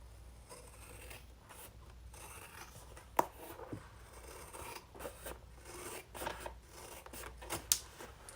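Scissors trim the edge of a piece of leather with quiet, close snips and rasping cuts, broken by small sharp clicks.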